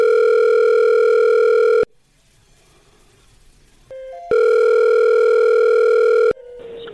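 A telephone dial tone hums steadily while a call is being placed, loud and continuous, broken by a quiet gap with a short tone, then resuming before a brief click and lower beep at the end.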